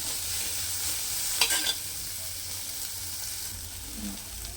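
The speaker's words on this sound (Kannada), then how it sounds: "ಇದು ಸ್ವಲ್ಪ ಫ್ರೈ ಆಗಬೇಕು." Garlic and onion fry in a pan with a steady close sizzle, a short burst of stirring scrapes near the middle, and no talk.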